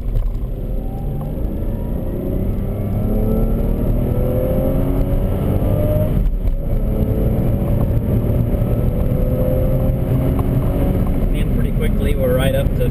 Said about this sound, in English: This will be a good chance to test out the acceleration from second gear.